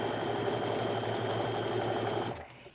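A sewing machine stitches fabric strips, running steadily at speed with a fast mechanical whir and rapid stitching chatter, then slows and stops near the end.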